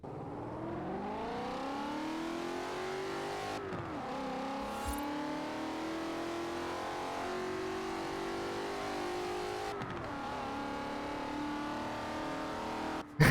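Car engine in the Forza Horizon 4 racing game, revving up steadily through the gears with two sharp drops at shifts, loud and continuous with no talking.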